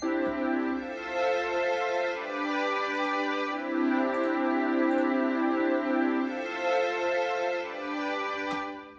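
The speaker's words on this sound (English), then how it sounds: "We have some more synths here." Sustained layered Korg M1 synthesizer chords swell and shift slowly, with bright harmonic tones and a few soft percussive ticks, played alone without any voice.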